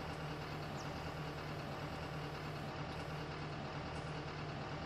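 A vehicle engine idles at a steady low drone with a constant hum in Farming Simulator 19 on the Goldcrest Valley map, faint and unbroken for the whole stretch, with no voices.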